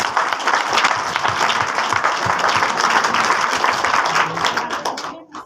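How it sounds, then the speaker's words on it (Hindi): An audience breaks into loud, sustained clapping at a Modicare gathering, a dense wash of hands that holds steady before tapering off abruptly at the end. "तो बजा सकते हो आप तालियां।"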